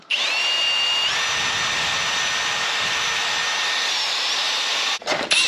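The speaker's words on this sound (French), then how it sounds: "Et par contre on va décaper partout où on veut souder." A power tool strips paint off metal in preparation for welding, giving a loud, steady, high-pitched whine that holds for about five seconds before briefly cutting out and starting again.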